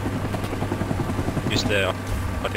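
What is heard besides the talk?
Cobra helicopter in Rising Storm 2: Vietnam video game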